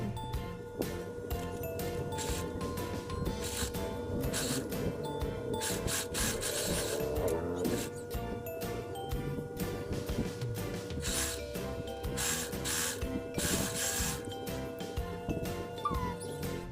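A serger overlocks the sleeve edge of a dress, giving a steady, close mechanical whir with fast repetitive stitching clicks that runs continuously throughout.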